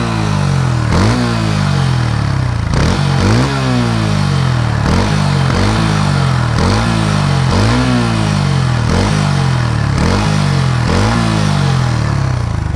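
Bajaj Pulsar N150 motorcycle engine held at high RPM, a loud, close, buzzing drone with repeated rising rev sweeps every second or so and a metallic rattle running through it, with no talking.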